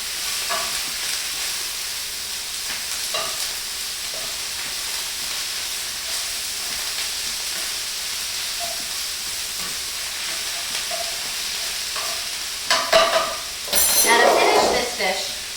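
Collard greens are stirred in a hot pan over low heat, giving a steady soft sizzle with light scraping, and a louder burst of clattering and hissing near the end.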